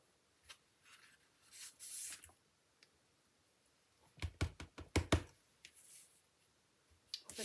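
A rubber stamp presses leaf images onto card paper for a wedding gift card holder, giving quiet taps and a cluster of sharp knocks midway, with faint rustling between.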